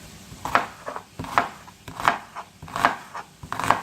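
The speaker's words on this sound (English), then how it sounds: "We're going to cut up an onion." Knife strokes through a sweet onion on a cutting board, five distinct rhythmic chops spaced about a second apart, close and moderately loud with nothing else heard.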